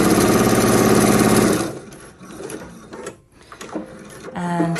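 A sewing machine stitches along the length of two pieces of orange fabric for an elastic attachment on a child's fairy dress-up set. It runs as a loud, dense whir, then slows into quieter, uneven stitching bursts.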